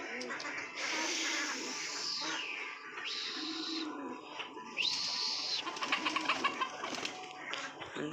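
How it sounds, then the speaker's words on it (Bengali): Pigeons coo and call near their coop as they leave one by one, with soft wingbeats and higher bird chirps scattered over a quiet background and some faint voices. "সব পায়রাগুলো একটা একটা করে বেরিয়ে যাচ্ছে।"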